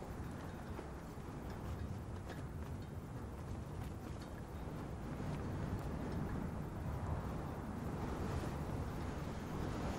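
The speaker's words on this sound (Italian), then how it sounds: "Il vento si fa sentire." Steady wind blowing across an outdoor map in Call of Duty Modern Warfare, a continuous broadband rush that swells slightly louder in the second half, with no voices over it.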